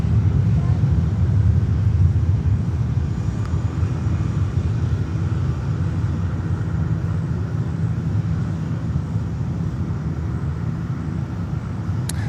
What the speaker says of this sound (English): I think I hear a prop here.